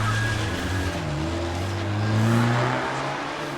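A car pulls away in a movie scene, its engine note rising and sliding in pitch as it accelerates, swelling louder then easing off, with no voices heard.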